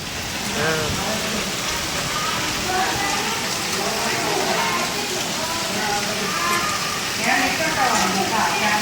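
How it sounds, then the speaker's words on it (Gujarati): Dense, steady monsoon rain pours down continuously, with people talking over it at times. "જોરદાર વરસાદ આજે પહેલી વાર આવવો પડ્યો"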